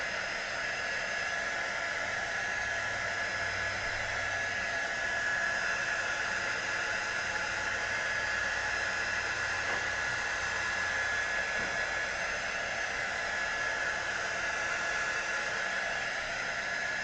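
A hair dryer blows steadily over wet, tacky paint on a holiday village collage, giving an unbroken, even whoosh with a constant whine that runs for the whole stretch at moderate level, with no talking.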